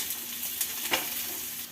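Onions frying in butter, a quiet, steady sizzle close up with a few light taps and scrapes from stirring, no talking.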